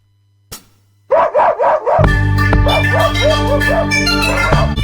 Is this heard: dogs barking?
yes